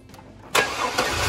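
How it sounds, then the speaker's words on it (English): A car engine cranks and fires up after a brief quiet moment, then catches into a steady running roar with a second surge just after. Close and fairly loud, with no talk. "We're going to start the car up."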